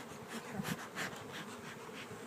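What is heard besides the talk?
honey bees buzzing in a hive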